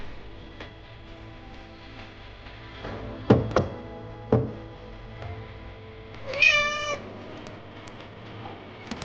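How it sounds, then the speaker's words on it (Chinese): A kitten lets out a single clear meow, preceded by a few soft knocks and thumps in a quiet indoor room. "哪里来的小猫啊？"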